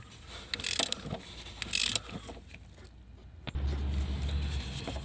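A hand ratchet works on bolts holding the starter of a Dodge Durango with a 3.6L engine during transmission replacement, giving two bursts of quick clicking, a pause, then a low mechanical hum close by.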